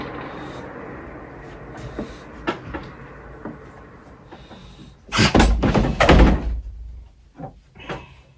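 A bedroom window being shut: quiet shuffling and light knocks, then a loud close rumbling slide and thud around the middle, followed by a few faint clicks.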